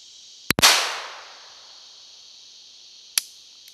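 Two sharp, loud gunshots from a Walther PPK/S pistol firing .22 Long Rifle rounds, the first followed by a long outdoor echo that fades slowly, the second coming about two and a half seconds later and sounding thinner.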